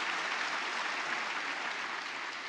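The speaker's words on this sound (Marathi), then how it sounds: "त्यामुळे एकदा जोरदार टाळ्या झाल्या पाहिजे पालकवर्गासाठी" A large audience claps for the parents at a felicitation event, steady and sustained without break, evenly loud throughout.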